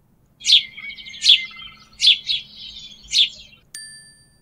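A sparrow chirps in four close, bright bursts spread over a few seconds, then a short metallic ding rings out at the end.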